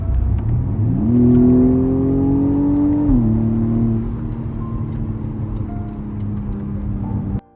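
A BMW M135i accelerates on the road, its engine note rising in pitch through a gear, holding a steady drone, then dropping and settling into a loud, even hum before cutting off.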